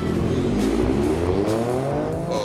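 An Alfa Romeo Stelvio with a V6 biturbo engine launches hard from a standing start on a test track, its engine note climbing loudly and close with tyre noise, alone without talk.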